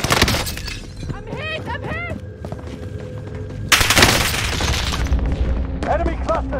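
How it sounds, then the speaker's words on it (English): A cluster strike in Call of Duty Warzone sets off a loud burst of explosions and rapid gunfire, with voices shouting over the chaos and a heavy blast midway through. "Enemy cluster strike!"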